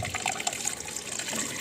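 Distilled water flushing through a car's cooling system and dripping out the back side, a steady liquid trickle and splash that continues throughout, close and fairly loud with no talking.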